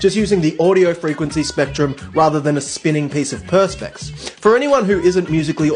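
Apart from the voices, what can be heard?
No everyday noise stands out behind the speech.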